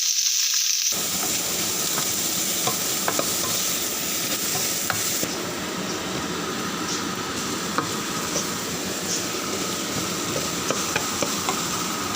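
Curry leaves, onion, tomato and green chilli for mutton curry hit hot oil and sizzle steadily and loudly, with occasional faint stirring clicks and no speech.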